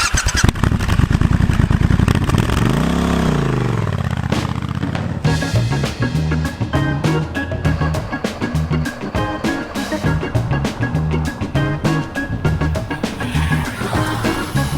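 A Triumph Scrambler 1200 XC motorcycle engine surges through a loud rising and falling rev, then settles into a rapid, pulsing throb of repeated throttle blips, close and strong throughout.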